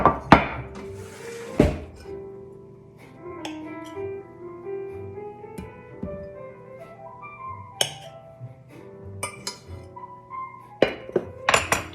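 A metal baking pan is handled in a home kitchen with bright clinks and clanks, irregular knocks and scrapes, and a few sharp bangs near the start and end, all close and without talk.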